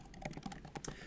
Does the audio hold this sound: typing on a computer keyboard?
yes